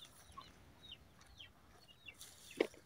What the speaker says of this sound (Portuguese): tem bastante galinha aqui dentro.